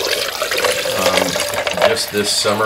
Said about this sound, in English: we're going to go ahead and pour water in here